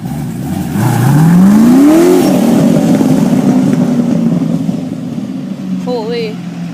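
A kit car said to reach about 190 accelerates hard, its engine note climbing in pitch as it roars past at close range, then fading out, with people talking nearby.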